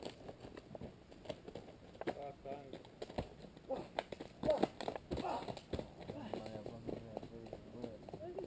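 Horse being ridden on Monte Stella, its hooves clip-clopping in a steady walking rhythm close by, while people talk in Italian over the footfalls.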